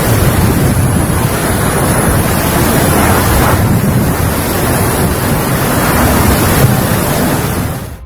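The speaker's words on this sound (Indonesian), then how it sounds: "Hujan angin, hujan angin." A strong storm of heavy rain and high wind sweeps over Cimahi, West Java, as a loud, continuous roar with wind buffeting the microphone. No voices are heard.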